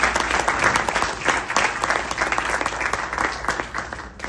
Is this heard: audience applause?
yes